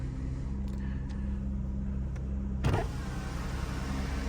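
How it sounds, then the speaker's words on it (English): Power windows on a manual-transmission Cadillac CTS Coupe hum as the glass travels, a close steady electric motor drone that ends with a brief thump as the window seats, after a fresh battery install. "The auto windows still do their thing."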